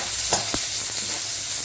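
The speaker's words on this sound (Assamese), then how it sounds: "এতিয়া মই এইখিনি অকণমান পিঁয়াজটো চফ্ট হোৱালৈকে ভাজি ল'ম" Sliced onions fry in a pan while a spatula stirs them, giving a close, steady sizzle broken by a couple of quick scraping strokes with no talking.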